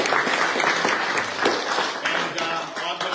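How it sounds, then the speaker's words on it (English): An audience claps in continuous, fairly loud applause for renovators on The Block 2022, a steady wash of many hands with no pauses and little talking. "A big round of applause."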